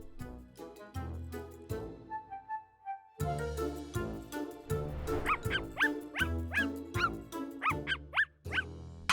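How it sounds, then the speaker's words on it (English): A cartoon dog barks in a rapid run of short, bright yips and bow-wows, fairly close, over a rhythmic background music track. "Is that Mr. David's dog?"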